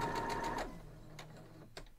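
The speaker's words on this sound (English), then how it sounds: "Then I'll sew the other side." A sewing machine sews a seam on an Air Castle quilt block, running in a short quick burst that winds down after half a second, followed by faint handling clicks and quiet.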